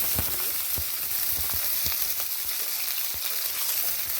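Potatoes fry in hot oil in a wok, producing a continuous close sizzle with soft crackles and a few light taps and stirring sounds, and no voices.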